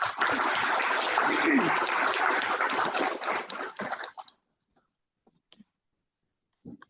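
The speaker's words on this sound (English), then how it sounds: "join me in welcoming Dr. Mandy Mock to the stage with a round of applause" An audience at a 2023 conference inaugural session in Singapore applauds loudly for about four seconds, then the clapping thins out into near silence with a few stray small noises.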